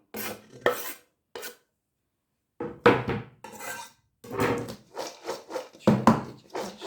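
Cabbage pickle stirred in a container: short bursts of wet scraping and utensil clinks come in irregular clusters, close by, separated by brief silent pauses.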